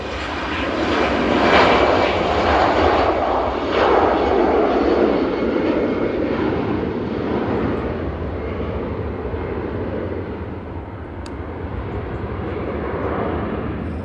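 TUI airliner landing at Manchester Airport, its jet engine roar swelling loud and close, then easing into a long steady rumble that fades slightly before building again.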